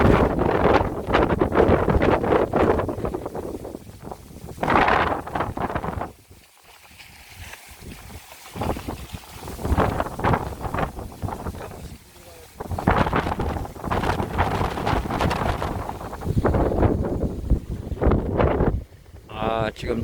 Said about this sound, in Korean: 바람 소리 들리시죠? 대단합니다.